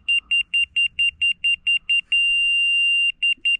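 An electronic beeper on an A-frame dormer build sounds a string of short, loud, evenly spaced high-pitched beeps, then one long steady tone, then the quick beeps start again. Faint background noise sits underneath.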